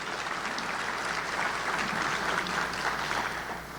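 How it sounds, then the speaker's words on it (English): Applause from an audience at a Chamber of Commerce monthly luncheon forms a steady, dense wash of clapping heard from a distance in a large room and holding level throughout. "Let's give her a big round of applause."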